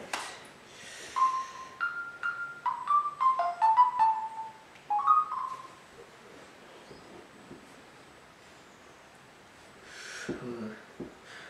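A phone ringtone plays a short series of bright melodic beeps, fairly close and clear, then stops, followed by a quiet pause and some faint rustling.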